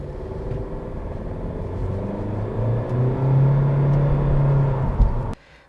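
A 2022 Honda Civic VTi LX with a CVT gearbox under hard throttle, giving a steady engine drone that climbs into a sustained hum and then cuts off abruptly at the end.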